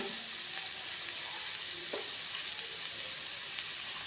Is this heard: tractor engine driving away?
no